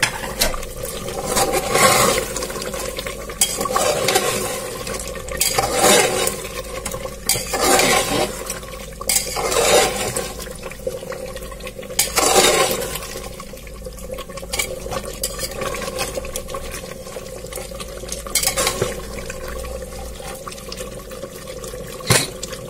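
A spoon stirs chicken biryani in a pressure cooker, giving repeated wet scraping and sloshing strokes at an uneven rhythm, close and moderately loud, without talk.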